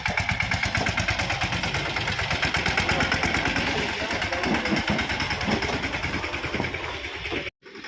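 A tractor engine on a farm where coconuts are being loaded runs nearby with a steady, throbbing rumble that holds for the whole stretch before cutting off abruptly at the end.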